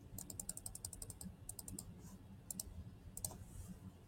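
Quick bursts of clicking keystrokes on a computer keyboard come in short irregular runs, close up and fairly quiet, with no speech.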